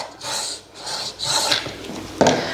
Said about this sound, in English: I'll just give that a little bit of a sharpen. And especially down at that tip, I want it nice and sharp.